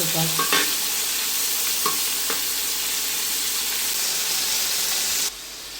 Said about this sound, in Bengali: চিংড়ি মাছগুলো একটু আস্তে দিয়ে একটু নাড়াইয়ে চালিয়ে দেবো ওপাশ